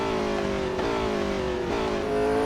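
A McLaren 765LT at full throttle on a track day, its engine howling close and loud with rising pitch, a brief dip around each upshift before it climbs again.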